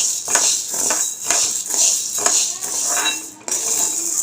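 Black gram is dry-roasted in a pan and stirred in a steady rhythm, each stroke giving a dry scraping rattle over a constant bright hiss of shifting grains, close and fairly loud.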